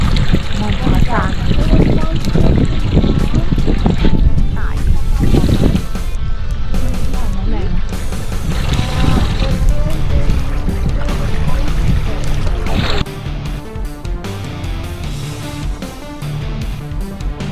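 A tour boat moves across an Iceland glacier lagoon among ice, its engine rumbling with water washing and wind gusting nearby, and voices now and then.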